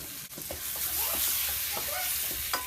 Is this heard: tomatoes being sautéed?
yes